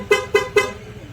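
A Honda PCX160 scooter's aftermarket PIA horn gives three quick, loud, bright toots in even succession, close and clear.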